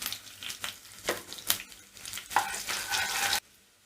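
Chopped onion hits hot oil in a kadai and sizzles loudly, while a spoon stirs it with scraping pulses that cut off abruptly near the end. No one speaks.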